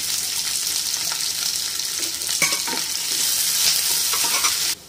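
Onions frying with green chillies and curry leaves in a pan for aval upma, Tamil home cooking: a steady bright sizzle with stirring scrapes throughout, close and fairly loud, no talking.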